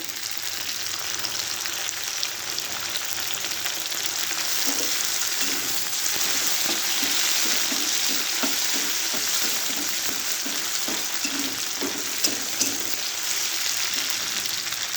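Onion, garlic and tomatoes fry in a pan for a mung bean dish, giving a loud, continuous sizzle with a run of soft rhythmic stirring taps through the middle and a couple of sharper clinks near the end, no talking.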